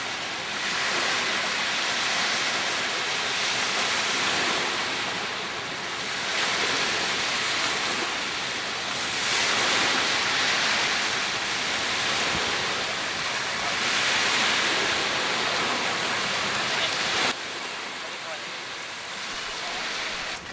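Surf washes continuously onto a beach, a loud broadband roar that swells and recedes in slow surges, with no voices heard.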